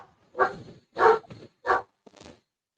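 A dog barks from an upstairs room during a sports talk show, four or five sharp barks in an uneven rhythm, moderately loud and slightly distant, with no talking over them.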